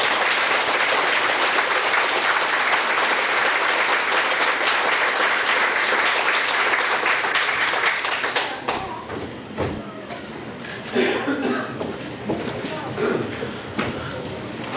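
An audience at a Burns Night gathering in Scotch Colony, New Brunswick, bursts into loud, dense applause and cheering for about eight seconds, then it thins out into scattered claps and murmuring voices.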